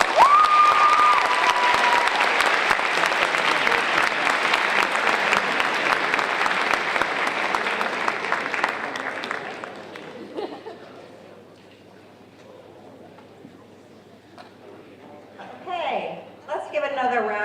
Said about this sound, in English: give another round of applause for these amazing.